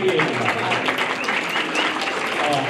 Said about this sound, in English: Big round of applause for all the people that had a hand in the food here.